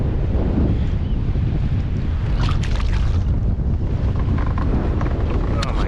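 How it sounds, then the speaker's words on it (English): Strong wind buffeting the microphone out on the water during a Georgia redfish trip, a loud continuous rumbling roar with faint splashes of water beneath it. "What a mess out here in the wind."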